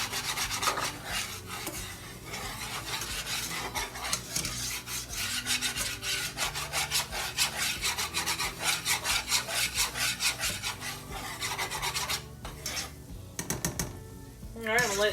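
A spoon scrapes a flour mixture around a hot pan over medium-high heat, close and steady, with continuous rubbing strokes and no talking.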